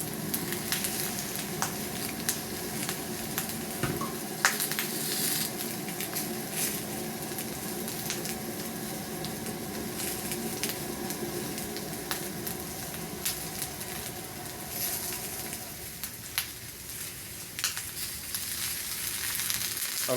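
Chicken frying on a small griddle, giving a loud, continuous crackling sizzle with dense popping spatters throughout, easing slightly near the end.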